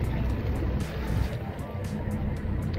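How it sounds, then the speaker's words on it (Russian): A motor boat eases into its berth at the end of a yacht excursion in Sochi, its engine a steady low rumble with water churning close by and no pauses. "Наш катер паркуется на свое место парковочное."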